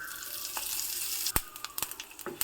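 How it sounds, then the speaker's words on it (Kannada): Dry red chili and curry leaves sizzle in hot oil as a tempering for a traditional Malenadu vegetable dish, a faint, steady crackle with a few sharp pops. "ಒಂದು ಒಣ ಮೆಣಸನ್ನು ಹಾಕ್ತಾಯಿದ್ದೀನಿ ಮತ್ತು ಕರಿಬೇವು"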